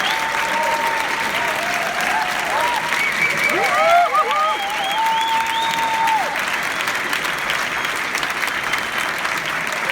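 Applause from a large audience at the Grand Rex, loud and continuous throughout, with bright whistles or shouted cheers rising over the crowd around the middle.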